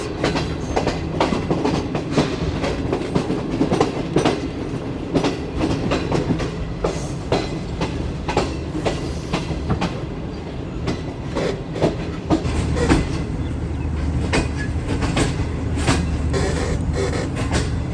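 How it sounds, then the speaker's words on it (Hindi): Shalimar Express passenger train running near Nawabshah in hot weather, a steady clickety-clack of wheels over rail joints with a continuous low rumble, close and fairly loud, no talk throughout. "सिंध के दिल यानी नवाबशाह पर पहुंच चुकी है जी 27 अब शालीमार एक्सप्रेस।"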